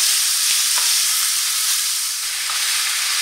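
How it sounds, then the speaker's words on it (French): Minced kefta meat fries in a pan while being stirred. A loud, continuous hissing sizzle carries a few faint scraping clicks, with no one talking. "je laisse revenir pendant 5 minutes en mélangeant de temps à autre jusqu'à coloration de la kefta"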